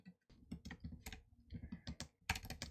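Keys clatter on a computer keyboard in quick irregular bursts of clicks, close and moderately loud, with short pauses between runs of typing and no voices.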